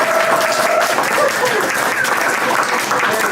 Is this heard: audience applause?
yes